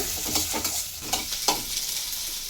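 Onions frying in a pan, a steady sizzle broken by several distinct scrapes and knocks of a spoon stirring, close and fairly loud.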